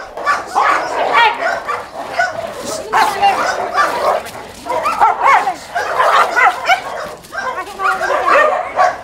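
Several dogs at an animal shelter bark and yip in overlapping bursts, close by and fairly loud, with some whimpering and faint bird chirps in between.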